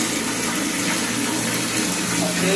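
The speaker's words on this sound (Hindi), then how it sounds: "ये सप्लाई का पानी है, आ रहा है" Municipal supply water gushes steadily from a pipe, a loud, continuous rushing splash close by with no break.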